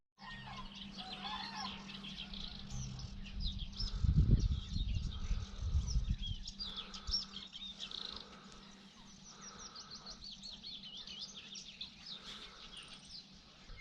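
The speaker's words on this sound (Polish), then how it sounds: "A już tych ptaków odgłosów zdecydowanie mniej" Birds chirp and trill steadily in the open air just after sunrise in May in Narew National Park, Podlasie, several calls overlapping at a moderate distance, with a brief low rumble partway through.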